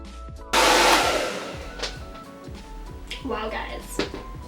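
A handheld hair dryer switches on with a loud, close whoosh of blowing air that settles into a steadier hum, with clattering handling noises and a voice talking over it.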